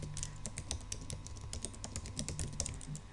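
Fast, uneven typing on a computer keyboard as an email address is entered, a dense run of close, crisp key clicks with no talking over a faint steady hum.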